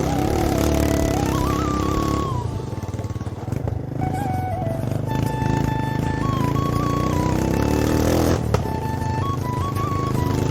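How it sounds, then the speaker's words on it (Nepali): A fully restored and modified old motorcycle with a freshly rebuilt engine idles close by, its steady uneven putter shifting pitch with a few sharp misfiring pops. "पुरै मिसफायर हान्दैछ त यार"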